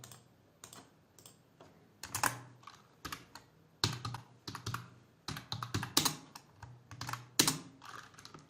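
Fast, irregular clicking of keys on a computer keyboard during a Unity game-programming session, close and fairly quiet, in uneven bursts with short pauses and no talking.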